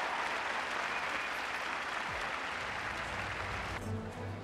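Steady applause from an arena crowd after a figure skating pairs short program by Canadian champions Jessica Dubé and Bryce Davison, a dense even roar of clapping throughout that eases slightly near the end.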